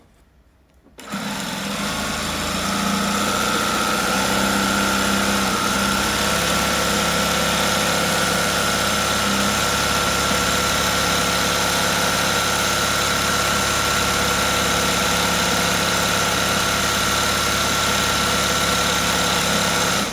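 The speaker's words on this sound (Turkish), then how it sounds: "açılarak dikmeye devam ediyorum bakın" A sewing machine stitching a small tress rope bag with a leather flap starts up after a moment of quiet, then runs at a steady, loud, even whir with a constant mechanical hum.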